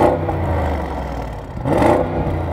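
2025 Audi SQ8 with 507 hp engine, revved through its quad exhaust pipes, two rising roars heard from outside, the second louder, with no talking.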